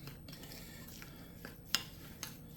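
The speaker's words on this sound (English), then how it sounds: "And so as I stir this together, I want to see just how moist this is." A herb, spice and garlic paste being stirred together with oil in a bowl for seasoning porchetta, with soft scraping and a couple of sharp clinks of utensil against the dish, close and quiet.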